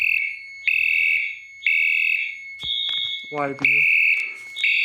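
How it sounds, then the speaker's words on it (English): Polymer fire alarm horn strobe set to 75 candela sounds in loud repeating tonal horn blasts with short gaps, with brief talk in the middle. "the polymer horn strobe."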